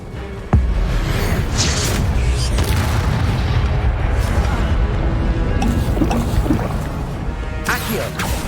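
Incendio fire spell bursts from the Hogwarts Legacy video game, opening with a sharp boom and then a loud, steady roaring whoosh of flame with crackling spikes, ending in a further burst near the close.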